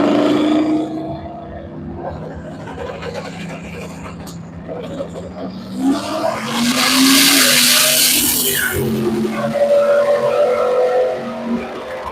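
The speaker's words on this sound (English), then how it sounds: "That's a big block Ford, 557 twin turbo. They're going to get after it." Drag racing cars run at the U.S. 131 Motorsports Park, among them a Mustang and a Fairlane with a big-block Ford 557 twin-turbo engine. Loud engines rev and climb into a broad roaring burst midway, and a commentator talks over them throughout.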